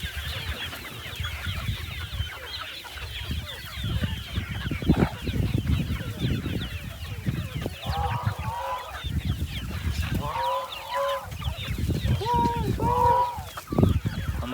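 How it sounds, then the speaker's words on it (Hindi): Farm ducks call repeatedly for food, with a busy mix of honking and quacking bursts clustered near the end, over shuffling movement and faint background voices. "डक आर्मी बड़े वाली, वो भी कह रही है कि हमें भी कुछ खिलाओ"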